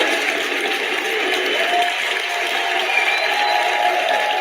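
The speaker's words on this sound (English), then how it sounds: "Give them a round of applause also." A crowd gives a round of applause, a steady dense wash of clapping and crowd noise heard from some distance, holding at an even level for several seconds.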